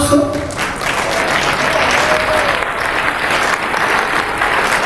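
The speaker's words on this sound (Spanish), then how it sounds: "Les pido un fuerte aplauso." Loud, sustained applause from a large crowd at a national congress, a thick, even clapping roar lasting several seconds, with faint voices underneath.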